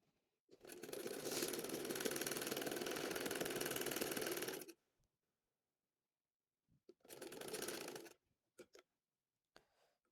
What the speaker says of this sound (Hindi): इसको सिलाई करते जाएंगे।